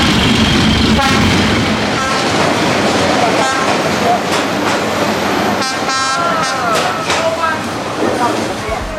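A train rolls slowly along Hanoi's narrow train street, loud and close, with clattering wheels, horn blasts and sharp squeals over crowd chatter and voices.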